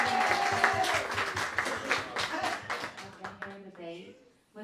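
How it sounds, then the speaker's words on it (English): Studio audience applause at a talk-show taping, a burst of clapping hands mixed with cheering voices and chatter that gradually thins out and fades away. "Can we all give them a round of applause?"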